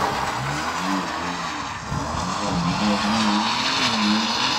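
A Porsche GT3 spins almost a full 360 degrees, its tyres squealing in rising and falling wails over a steady, loud engine roar that runs throughout.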